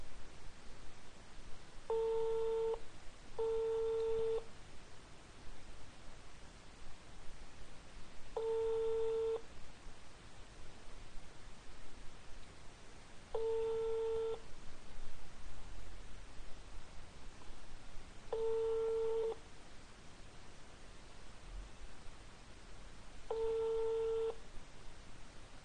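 Ringback tones on an outgoing cold call that no one answers: six evenly spaced double-pulse ring signals, about five seconds apart, over a faint hiss with no talk.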